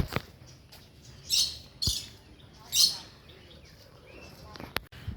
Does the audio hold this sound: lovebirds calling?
yes